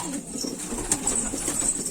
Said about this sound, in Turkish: Elvan bir güvercin